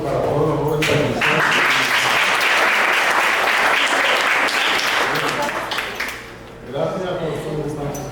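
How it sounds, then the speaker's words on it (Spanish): Audience applause for young participants at an innovation fair talk series, a full burst of clapping that swells quickly and fades near the end, with speech heard at the start and close. "Un aplauso para todos los jóvenes."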